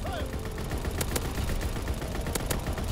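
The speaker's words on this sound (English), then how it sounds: "we are going to call in our ball turret gunner" A ball turret gunner in Call of Duty WW2 fires sustained rapid bursts, a steady loud rattle of automatic gunfire punctuated by a few sharper shots.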